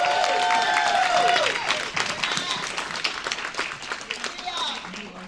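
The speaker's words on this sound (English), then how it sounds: "big round of applause." A large crowd applauds at a women's health and business awards gala, loud and dense at first, then thinning into scattered claps with a whistle or cheer near the start.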